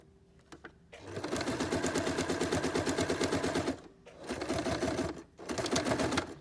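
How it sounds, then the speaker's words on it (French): A sewing machine stitching fabric to finish a seam runs in three rapid, rattling bursts, the first long and the next two shorter, separated by brief pauses, close and clear with no talk. "je vais continuer et je vais venir finir ma couture sur la première"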